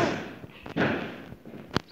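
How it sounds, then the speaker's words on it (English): Fireworks going off in a Roblox game, a couple of muffled booms and rumbles followed by one sharp crack, fairly loud and close. "Sorry guys, for that noise. This is firework, guys."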